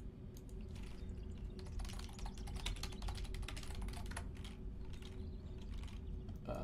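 Busy internet cafe full of people typing on computer keyboards, giving a dense, continuous clatter of fast keystrokes over a steady low hum of room noise, with no clear speech.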